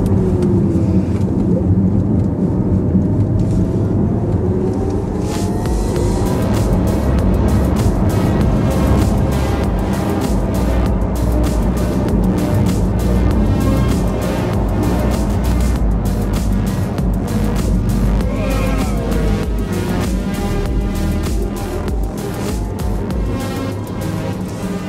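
A Porsche Taycan electric car drives along a road, giving a continuous loud rush of tyre and wind noise with a faint rising electric whine, steady throughout with no pauses.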